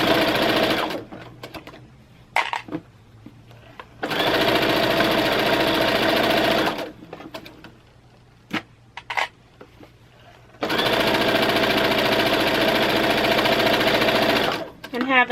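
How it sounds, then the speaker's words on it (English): A sewing machine stitches a fabric dust cover for an Accuquilt Studio die cutter, running in loud steady bursts of rapid whirring and clatter with quiet pauses between, while a person talks over the gaps. "now I can go ahead and sew around and go back down the straight side."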